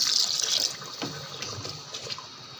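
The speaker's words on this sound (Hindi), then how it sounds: "अब हम इसे थोड़ा सा पानी लगाएंगे।" Water splashes briefly into a pot of beef trotters, a bright hissing pour for under a second, followed by quieter clinks and sizzling.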